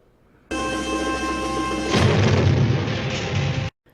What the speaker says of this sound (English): jumps out of the car and triggers the car's explosion